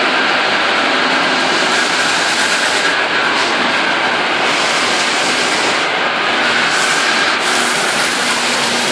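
A loud, steady roar of a train rumbling and rattling past close by, continuous wheel and carriage noise with no voices.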